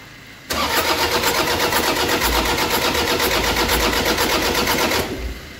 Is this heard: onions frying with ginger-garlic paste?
no